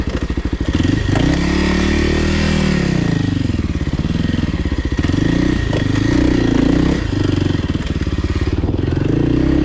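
A Kawasaki KLX300R dirt bike on a steep, difficult trail with worn tires, its engine loud and close, revving and dropping in waves with clattering suspension and rattles throughout.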